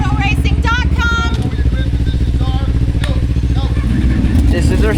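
Racing motorcycles on a sighting lap of a track after racing school, engines droning loud and steady with rising and falling revs, a voice talking over them.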